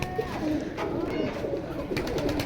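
Caged pigeons coo steadily and close by, their low throaty calls overlapping in a continuous murmur, with occasional faint background voices.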